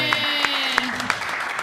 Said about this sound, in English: I especially want to give one nice big round of applause for Ryan up at the top